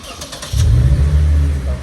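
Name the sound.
Lexus IS300 engine revving through exhaust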